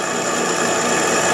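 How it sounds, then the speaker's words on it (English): A drill press bores out the rivets of an idler pulley, giving a steady, close, loud whine and grind with no breaks. "drill them out."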